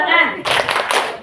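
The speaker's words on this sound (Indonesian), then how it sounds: "369 tepuk tangan." A classroom of students claps in unison for the 369 clap pattern at an Indonesian school; a voice speaks first, then two quick, loud bursts of clapping follow close together.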